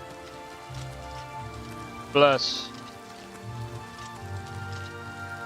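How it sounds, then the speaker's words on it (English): Steady rain falls in the video game Oblivion Remastered, a soft continuous patter that runs throughout while a voice speaks briefly and a short, louder burst of sound breaks in near the middle. "Rain looks better here."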